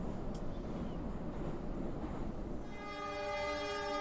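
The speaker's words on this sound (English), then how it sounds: "Train sounds." Train rumble and clatter in the video game Yuppie Psycho, a steady rolling noise that ends in a sustained horn-like whistle with layered tones over the last second.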